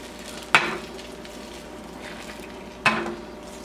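Spinach and goat cheese omelette eggs cooking in a greased pan: a soft, constant sizzle broken by two sharp scraping knocks as the egg is pushed toward the middle.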